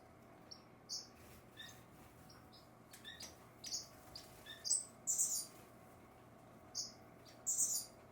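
Quail finches call in an aviary with short, bright chirps scattered through the clip, some in quick clusters. They are fairly faint against a steady low background hum, and no one speaks.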